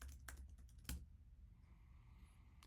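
Someone types a username and password on a computer keyboard, producing a quick burst of close, soft key clicks followed by quiet room tone.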